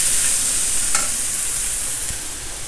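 Sliced onions frying in hot oil in a pan, a loud, steady sizzle close by with a faint stir or scrape partway through.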